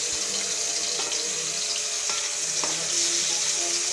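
Garlic sautés in hot cooking oil with a steady, fairly loud hiss and crackle, with faint scrapes of a stirring utensil now and then.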